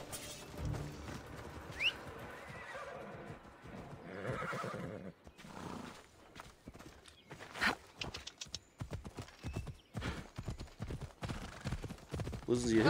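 Horse sounds from Assassin's Creed Odyssey gameplay, a whinny and hoof clops heard amid game effects and someone talking over them.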